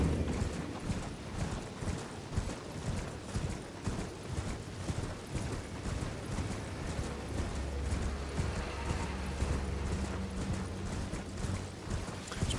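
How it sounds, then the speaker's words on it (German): A horse in the video game Elden Ring gallops in a steady rapid clip-clop of hooves, continuous and even throughout, set against a low game soundscape with no talking. "Jetzt probieren wir nochmal schnell auf dem Pferd"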